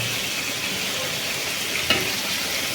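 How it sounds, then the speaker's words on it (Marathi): Chicken biryani masala fries in a pan with a steady, close hiss and crackle that runs the whole time, broken by one brief louder clink of stirring near the end. "आता होतं ना फ्राय, काय टेन्शन नाही."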